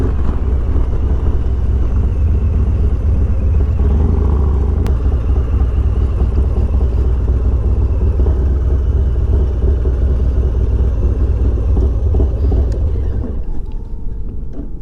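A Harley-Davidson Low Rider S is ridden with a loud, continuous engine rumble and road noise that hold steady close by, then ease off slightly near the end.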